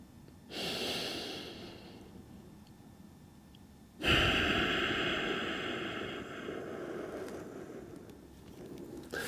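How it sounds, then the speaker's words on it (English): Slow, deep breathing during a foam-roller stretch: two drawn-out breath cycles, each a soft rushing inhale and a long, airy exhale, close to the mic and quiet, with no talking. "take a deep breath in, press into the roller, and release for a longer exhale than inhale"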